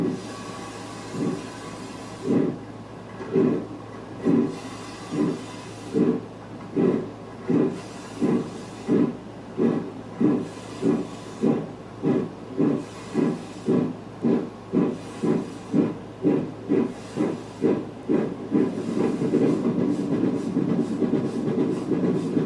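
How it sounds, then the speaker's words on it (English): Steam locomotive climbing a grade, with loud rhythmic exhaust chuffs that quicken steadily before merging into a continuous roar of steam and hiss near the end. "Early the next morning, the train climbs towards its quarry, a tin shed hiding 10 steam locomotives."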